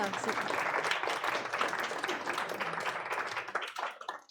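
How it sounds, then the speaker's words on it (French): An audience applauding steadily, dense clapping that gradually thins out toward the end. "Je crois qu'on peut l'applaudir."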